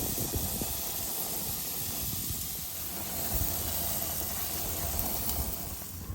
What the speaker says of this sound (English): flip it over, sear a little bit on the other side